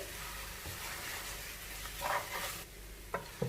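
Rice noodles stir-fried with vegetables in a pan, a steady hissing sizzle with a few brief scrapes and knocks from the utensil toward the end, quiet and without speech.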